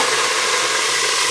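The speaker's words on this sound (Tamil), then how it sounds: "எண்ணெய் காஞ்சிருச்சு, கொஞ்சம் கருகப்பில் போட்டுக்கலாம்." Curry leaves dropped into hot oil give a steady, close hiss of frying that runs alone and evenly through the short moment.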